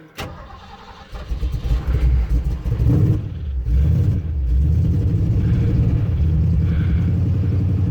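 A 1974 Ford with a roller 5.0 V8 and carburetor, cold after winter storage, cranks and fires up, then settles into a steady, loud rumbling idle close to the microphone with no talk.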